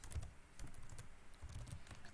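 A folder name is typed on a computer keyboard in a quiet room, a soft, steady patter of keystrokes running throughout, close but low in level.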